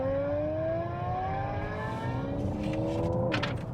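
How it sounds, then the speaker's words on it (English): Synthetic engine sound from a GWM Ora 07 electric car in sport mode, a rising, revving tone climbing steadily in pitch like an accelerating car, loud and continuous, with no talk. "it even gives you engine noises to go along with it as well"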